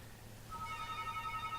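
A house telephone at a radio station rings with a steady electronic tone that starts partway through and continues alone over faint background hum.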